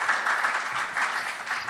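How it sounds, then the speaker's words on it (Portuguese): Audience applause at a mental health festival talk panel, a steady burst of clapping from a crowd, moderately loud and continuous without voices. "Uma salva de palmas grande, Francisco Costa."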